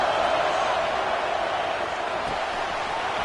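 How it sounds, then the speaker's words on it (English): Stadium crowd in College Football 26, a broad steady roar of cheering fans filling the background, constant and even in level, with no talking. "the crowd coming to life here, trying to help this defense down in the red zone"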